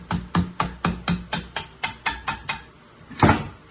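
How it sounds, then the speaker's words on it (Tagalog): A hammer strikes a flat screwdriver to separate a 1 hp water pump from its motor, about a dozen sharp metallic taps in a steady rhythm, ending with a heavier blow, close and loud. "Sunod gamit tong flat screwdriver at martilyo, ihiwalay na natin yung pump sa kanyang motor."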